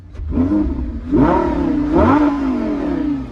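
A 2012 Lamborghini Gallardo LP550-2 engine in sport mode revs up sharply twice in quick bursts, loud and close, pitch rising and falling with each blip.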